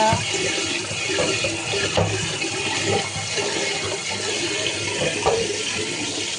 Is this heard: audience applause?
no